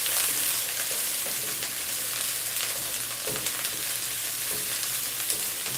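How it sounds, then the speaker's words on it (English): Yard long beans and callaloo stir-fry in a hot wok, giving a continuous bright sizzle with occasional stirring scrapes and clatters. "So my yard long bean and callaloo added to the wok."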